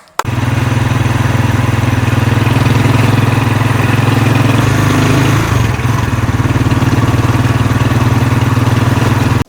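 A motorized tricycle taxi on a ride in the Philippines runs its engine loudly and steadily close by, a constant rumbling drone with a slight shift in pitch midway and no voices over it.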